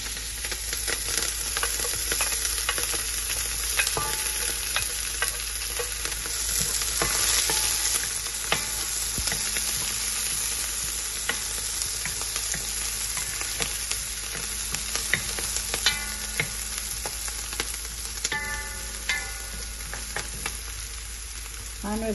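Scallions fry and sizzle steadily in a hot pan for Caribbean curry shrimp, a dense continuous crackle with occasional stirring scrapes and spatters, close and fairly loud with no talking.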